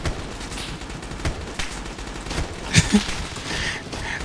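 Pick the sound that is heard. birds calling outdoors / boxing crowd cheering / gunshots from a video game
gunshots from a video game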